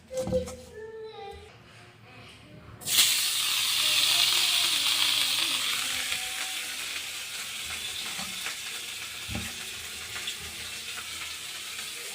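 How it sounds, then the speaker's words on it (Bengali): Fish fried in hot oil, a loud steady sizzle that bursts in suddenly after a few quiet seconds and then slowly settles, with a few soft knocks from the pan. "এখন আমি এই যে তেলের মধ্যে ভালো করে ভাজবো"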